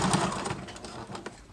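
A sewing machine stitches a seam on a crossbody wallet in a short, continuous mechanical burst. The needle's rapid, fairly loud whirring sounds up close, then eases off, with no talking.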